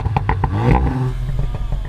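A Volkswagen Golf R four-cylinder engine revs hard close by, a sharp rise and fall of engine note with crackling exhaust pops and rapid clattering bursts around it.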